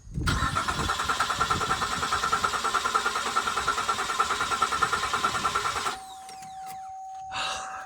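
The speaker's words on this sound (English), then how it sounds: "She's a cranker. I love it. It sounds great. Nice, healthy crank." A Cadillac CTS with a freshly replaced starter cranks over in a strong, even rhythm of loud, close pulses for about six seconds, then stops, leaving quiet with a faint hum and a small noise.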